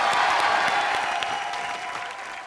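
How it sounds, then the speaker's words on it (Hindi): A studio audience applauds loudly for a guest on a Hindi TV comedy show, a dense wash of clapping that stays steady and slowly eases off over a couple of seconds. "सनी पाजी के लिए जोरदार तालियां।"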